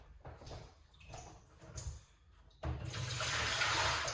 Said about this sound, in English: let me rinse off these